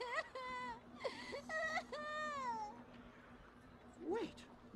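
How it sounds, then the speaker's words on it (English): Crying from a child in the Radiata Stories video game, a series of high, wavering, whimpering wails in short bursts with pauses, over a faint steady hum. "There's a child crying somewhere."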